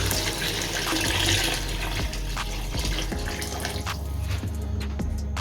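Water pouring steadily into a pot of rice, 1.5 litres for a one-kilo batch of vegetable pulao, a continuous close splashing fill with a few clinks near the end.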